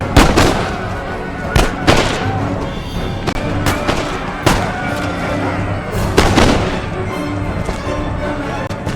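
Infantry musket volleys crack and boom across a battlefield in Empire: Total War, a dense barrage of sharp overlapping shots repeating every second or two over a steady rumbling din.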